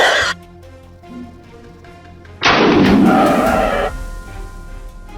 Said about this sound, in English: I aimed accurately and shot it down quickly.